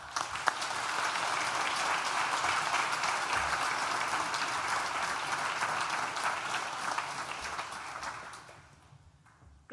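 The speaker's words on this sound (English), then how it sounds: "please join me in a round of applause to thank all of those" An audience applauds at a university graduation ceremony, with dense, sustained clapping from a large crowd that fades out near the end.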